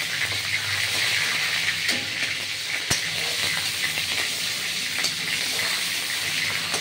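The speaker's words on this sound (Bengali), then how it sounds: "কাঁচা লঙ্কাটা খুব সুন্দর করে ভাজা হবে" Green chillies fry in hot oil with Bengali five-spice, giving a steady close sizzle and crackle with a few brief louder pops.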